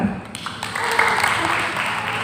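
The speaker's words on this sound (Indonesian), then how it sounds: "Boleh tepuk tangan" An audience at an arts-program coordination meeting in Purbalingga breaks into applause, a dense wash of clapping that rises after a brief start and holds steady at moderate loudness.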